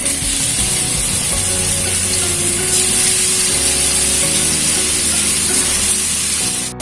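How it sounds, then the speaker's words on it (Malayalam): Marinated chicken shallow frying in hot sunflower oil in a pan, a loud steady sizzle and crackle running without a break throughout. "ഇനി നമ്മൾ നേരത്തെ മാരിനേറ്റ് ചെയ്ത് വെച്ചിരുന്ന ചിക്കൻ ഇതിലോട്ട് ഇട്ട് കൊടുക്കാം."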